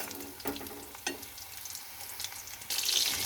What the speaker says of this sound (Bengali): এবার আমি বেগুনের ভিতর আর ওই তেলের ভেতর বেগুনগুলো ছেড়ে দিয়েছি। এবার আমি বেগুনগুলো ভালো করে ভেজে নেব।